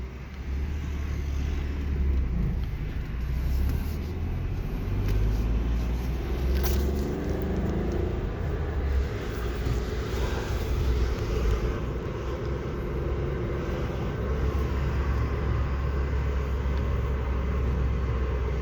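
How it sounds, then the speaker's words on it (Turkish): An amphibious bus in a Rotterdam canal gives a steady low engine drone that continues for the whole stretch along with a broad background rush, with no voices. "Dışak bak suda yüzen otobüs görüyor musun?"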